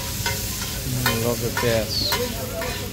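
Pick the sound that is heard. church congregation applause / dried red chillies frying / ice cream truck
dried red chillies frying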